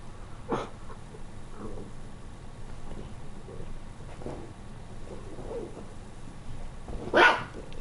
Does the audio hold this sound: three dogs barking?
yes